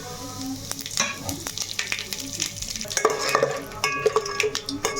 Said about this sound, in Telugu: ఇవన్నీ నూనె అయితే మనకు వేడెక్కింది వేసేసుకుందాం